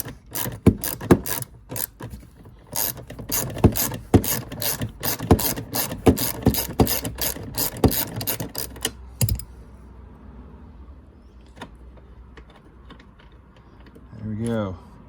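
Ratchet clicking rapidly and steadily while removing the seat bolts in a Porsche Boxster 986, close and loud for about nine seconds, then stopping, with quieter handling clicks and brief rustling after.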